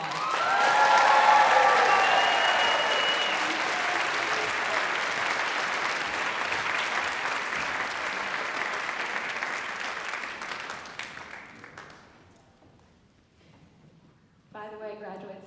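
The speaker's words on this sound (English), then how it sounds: "Let's give them all another round of applause." Graduates at a college graduation ceremony receive sustained audience applause with faint cheering, loud at first, then thinning and fading to quiet before a voice returns at the end.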